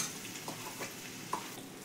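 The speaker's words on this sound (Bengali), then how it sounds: "এবারে ডালটা ঢেলে দিলাম" Lentils for dal tipped into a hot pan with cumin and coriander, giving a soft sizzle and a few light stirring scrapes, quiet and close.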